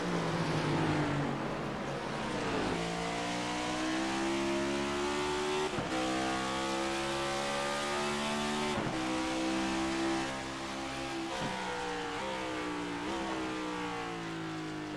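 Several Next Gen Cup Series stock car engines in a sim racing game at Watkins Glen scream close by, pitch climbing and dropping sharply as they shift and lift off the throttle, one after another.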